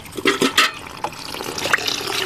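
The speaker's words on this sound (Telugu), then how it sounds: "ఇప్పుడు మరొకసారి నేను ఈ వాటర్లో వేస్తున్నాను అబ్బో వాటర్ పైకి వెళ్ళిపోతుంది" Water sloshes and splashes in a container as fertilizer is mixed for garden plants, with several close, loud bursts of churning followed by steady bubbling and trickling.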